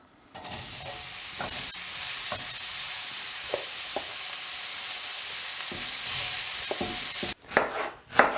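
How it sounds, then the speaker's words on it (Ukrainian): Button mushrooms sizzle and crackle in hot oil in a preheated pan, with occasional stirring scrapes and a brief louder clatter near the end. "На попередню розігріту сковорідку додаємо олії та наші печериці."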